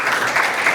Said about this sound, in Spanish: vamos a aplaudirles